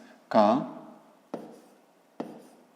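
A pen marks out a fifth-grade maths solution: one longer scratchy stroke followed by two short, crisp taps of writing, close and distinct against a quiet background.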